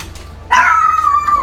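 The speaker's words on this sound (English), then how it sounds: "dog is loud." Indoors, after a quiet moment, a dog lets out a single loud, drawn-out yelping bark close by that trails off toward the end.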